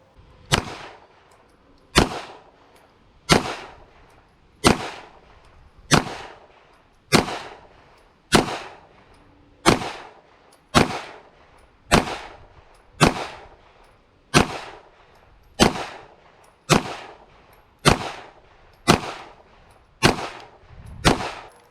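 A Walther PDP FS Pro SD pistol fires a long, evenly spaced string of about eighteen sharp shots at a target, each crack followed by a short decay, with no talking between them.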